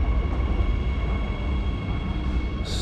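A subway train runs steadily, a continuous loud rumble with a faint high whine, and a brief hiss near the end.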